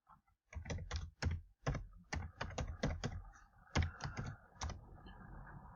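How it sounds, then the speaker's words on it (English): Rapid, uneven keystrokes of code being entered on a computer keyboard, close and clear, with short bursts of clicks separated by brief pauses and no talking. "we can start typing those in there"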